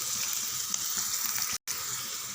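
Garlic sautés in a pan with a steady, bright sizzle and hiss throughout, close and moderately quiet, broken by one short silent gap near the end.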